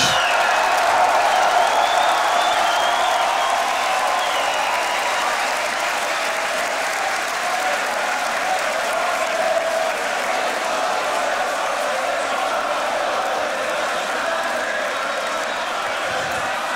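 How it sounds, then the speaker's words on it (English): A large audience at a beatbox battle competition keeps up loud, continuous applause and cheering with scattered whoops, a dense roar that fills the whole stretch without pause. "Give it up for Collapse."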